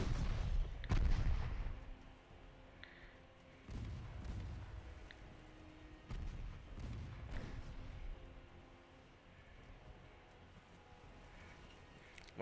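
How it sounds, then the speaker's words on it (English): Naval guns firing at a light cruiser in the Ultimate Admiral Dreadnoughts warship game: several deep booming salvos spread across the span, with rumbling echoes and distant battle noise between them. "Please continue firing at the light cruiser."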